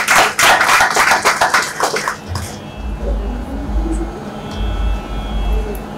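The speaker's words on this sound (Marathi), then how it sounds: "जोरदार टाळ्या" An audience at a bhajan program bursts into loud applause that lasts about two seconds, then gives way to a low hum and quiet room noise.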